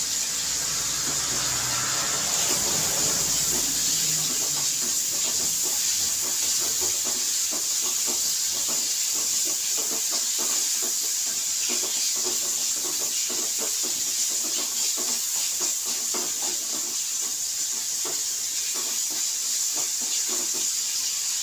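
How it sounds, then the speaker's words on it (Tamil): Mustard and fenugreek seeds sizzle in sesame oil while tempering a garlic curry, a steady close crackling hiss with dense fine pops that carries on throughout, with no talking. "கடுகு வெந்தயம் கொஞ்சமாக போட்டு இதை தாளிச்சிடலாம் நல்லெண்ணெயில் தாளிச்சிட்டு"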